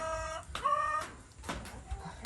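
Chickens on a homestead after a rainstorm cluck softly to one another, a few short close calls and murmurs with slight pauses between them over a quiet background.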